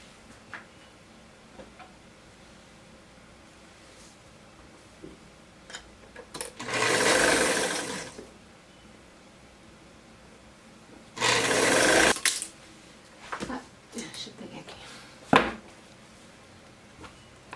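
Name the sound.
sewing machine stitching a dress seam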